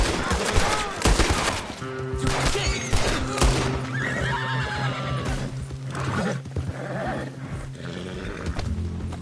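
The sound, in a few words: horse galloping and neighing, video game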